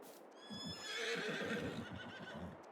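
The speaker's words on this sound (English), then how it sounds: "We're at our horses because they have given birth to a lot of offspring" Horses in Farming Simulator 22 give a faint, distant whinny with a falling, wavering pitch, followed by soft rhythmic hoof clip-clops, no voices.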